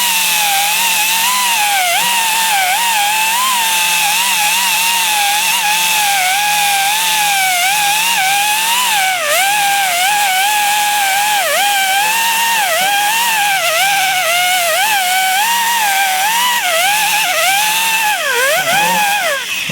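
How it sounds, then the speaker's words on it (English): A wire wheel grinds crud off the gear set of a Dana 60 differential from a 1979 Ford F250, a loud, steady high-pitched whine with wavering pitch as it bites into the metal, running continuously without talk. "The wire wheel clean it all off."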